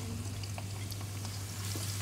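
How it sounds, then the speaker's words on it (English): Steady hiss of food sizzling and crackling in hot oil, close and continuous, with faint scattered pops. "so it sizzles like this"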